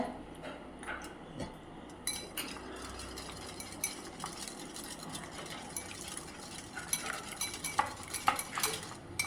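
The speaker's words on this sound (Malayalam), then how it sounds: "നല്ല പോലെ ബീറ്റ് ചെയ്യണം. എഗ്ഗ് അസലായിട്ട് ബീറ്റ് ചെയ്യുക." Eggs with onion, ginger and green chilli being beaten in a bowl, a fast rhythmic stream of close utensil taps and clicks against the bowl, growing sharper toward the end, no talk.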